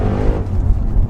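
A tuned Audi RS6 engine runs with a loud, close, low rumbling burble that stays steady for about a second, with no talking over it.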